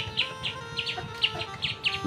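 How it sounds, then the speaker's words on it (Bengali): Pigeons calling nearby with short, high chirping notes, repeated about five times at a steady pace. "এই যে আমার সেই উষা কবুতর"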